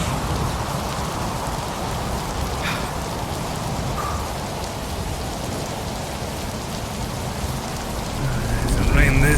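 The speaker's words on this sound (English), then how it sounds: "Hasn't rained this hard in quite some time." Heavy rain falling outdoors, a dense continuous hiss of drops striking surfaces close by, growing louder toward the end, with a few faint incidental sounds mixed in.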